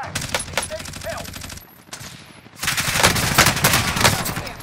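Sustained gunfire in Call of Duty: Warzone during a Payload match, dense rapid bursts of automatic fire cracking close and loud, briefly dropping off before resuming heavier, with voices calling out over it.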